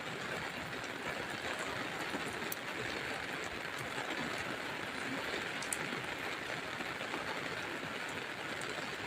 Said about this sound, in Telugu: ఇక్కడ చూసారా ఎంత వర్షాలు పడుతున్నాయో చూడండి.